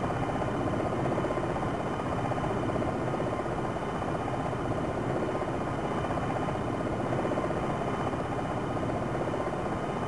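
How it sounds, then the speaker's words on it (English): Simulated helicopter hovering in Jane's Longbow 2, with its Black Hawk, Kiowa and Apache training flights: a steady droning rotor and engine buzz held at constant level, with no voices over it. "Now we'll get used to moving the helicopter with the cycler."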